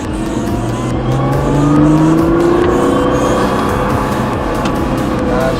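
Race car accelerating out of a corner on a circuit, a loud close engine note climbing steadily in pitch with a continuous rising drone and a brief swell near the middle.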